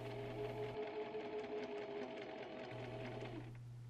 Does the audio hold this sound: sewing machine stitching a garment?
yes